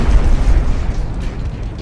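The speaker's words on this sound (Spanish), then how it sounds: "El laboratorio de metanfetamina ha explotado atrás." A meth lab explodes in the video game Battlefield Hardline, letting out a loud, deep booming blast. The rumbling roar then slowly tails off over the next second or so.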